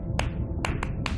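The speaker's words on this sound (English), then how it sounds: "Sperm whales make clicks in sort of rhythmic patterns that we call codas." Sperm whale coda clicks from the underwater game Beyond Blue, a 1+1+3 Eastern Caribbean pattern: four sharp broadband clicks heard here, two spaced apart and then a quicker pair, over a steady low underwater rumble.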